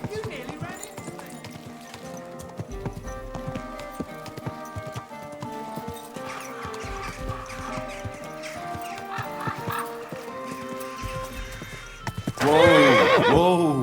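In the medieval video game Kingdom Come Deliverance 2, a horse's hooves clip-clop steadily beneath talking, then a loud, close whinny bursts out at the end.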